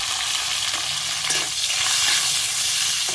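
Radhuni seeds and green chillies sizzle steadily in hot mustard oil, tempering a koi fish curry, a close, continuous frying hiss with faint stirring scrapes and no talking.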